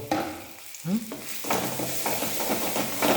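Oil is poured over curry cooking in a pan, making a close, crackling sizzle. Stirring scrapes and brief utensil knocks come in uneven bursts, with no speech.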